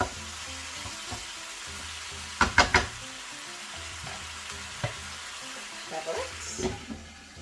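Steady sizzling of food frying in a pan, a continuous hiss broken by a few sharp clatters of stirring and scraping.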